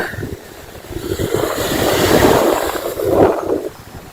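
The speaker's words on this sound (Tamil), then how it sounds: "எவ்வளவு கொந்தளிப்பா இருக்கு பாருங்க கடல்." Rough, churning sea surf at Kovalam beach, a steady roar of breaking waves with wind rumble, swelling louder in two surges before easing off, no voices.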